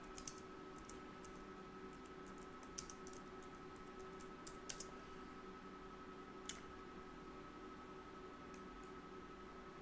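Keys on a computer keyboard are tapped in scattered, uneven clicks, faint and close over a steady electrical hum, with no voices.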